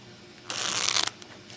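A single crisp riffle shuffle of playing cards, a quick rapid fluttering burst lasting about half a second, close up.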